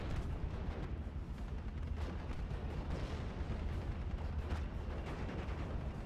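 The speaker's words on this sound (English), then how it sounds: "barrage coming on in, doing massive amount of suppression damage" Artillery barrage in a World War II strategy game, a steady stream of dull booms and rumbling impacts rolling on at moderate distance, dense and continuous with no talk.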